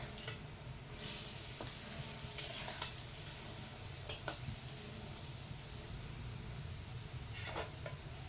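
Palm fritters (taler bora) deep-frying in hot white oil in a kadai, a steady crackling sizzle with occasional sharper pops and faint utensil clinks throughout.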